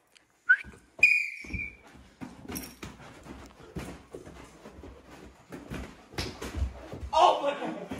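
A whistle blown to start a game among high school boys at a party, two sharp blasts near the start, followed by thuds, scuffling and excited voices talking over the action.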